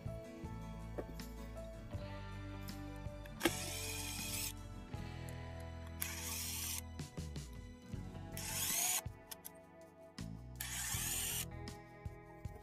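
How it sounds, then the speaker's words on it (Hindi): Screws being unfastened while a 24-inch TCL LED TV, model LED24B2500, is taken apart: a series of quiet ratcheting, clicking turns interrupted by several sharp bursts of louder mechanical whirring, close up with no talk. "इसके स्क्रू खोल लेते हैं।"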